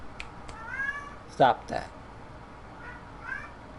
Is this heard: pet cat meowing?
yes